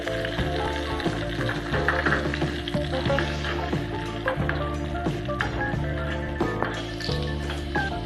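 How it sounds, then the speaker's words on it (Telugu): Coconut pieces frying in ghee in a pan for a Kerala sweet, a busy continuous sizzle with clinking stirring and some background tones running throughout, close and fairly loud. "కొబ్బరి ముక్కలు వేగిన తర్వాత"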